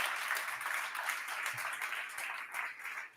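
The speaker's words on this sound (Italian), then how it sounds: "Facciamo un applauso." Audience applause at an Italian talk about putting people back at the centre: a dense, steady wash of many hands clapping, fairly distant and even in level, with no speech over it.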